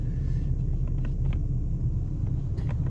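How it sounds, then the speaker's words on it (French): A blue car passing on a road, heard from inside a vehicle easing off the brakes on a driving-lesson braking exercise; a steady low rumble of passing traffic under engine noise, no talk. "on va laisser le véhicule bleu passer"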